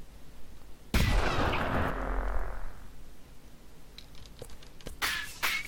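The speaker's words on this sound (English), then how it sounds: "Ah, the violator's firing." A single heavy blast from the violator tower firing in the Sanctum video game, a loud boom with a long rumbling decay, followed later by a few faint sharp clicks and a brighter burst near the end.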